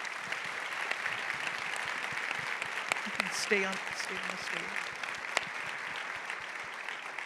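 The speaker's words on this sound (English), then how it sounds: "I would like the audience to please give them a round of applause" An audience at a women-in-leadership talk applauds a panel, a steady moderate patter of many hands clapping through the whole stretch, with a brief spoken remark partway through.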